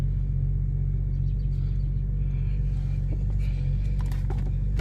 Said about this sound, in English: I'm going to press the brake and hit the start button, and the vehicle starts